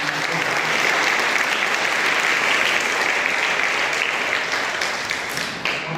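A crowd claps steadily and loudly for several seconds, a dense, sustained round of applause with no talking.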